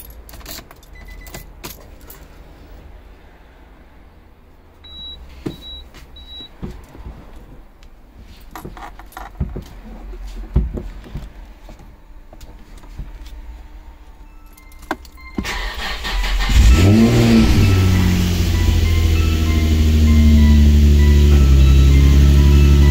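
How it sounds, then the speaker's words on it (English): Nissan 350Z/G35 engine catches and settles into a loud, steady idle after about fifteen seconds of keys jangling and cabin clicks, its first start following a clutch and lightweight flywheel install. "this will be the first startup just hope she start"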